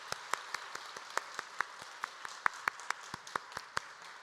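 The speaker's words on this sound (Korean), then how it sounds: "우리 한 해 동안 은혜 베푸신 하나님께 한 번 더 영광의 박수 올려드리실까요?" A church congregation claps in praise during a Sunday afternoon worship service. The claps come as sparse, separate sharp hits rather than dense applause, fairly soft and roomy, with no talking.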